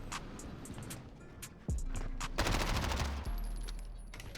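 Video game gunfire, a shooter played at high sensitivity: rapid bursts of shots crackling over continuous loud game noise, dense and sustained through the middle, no talking.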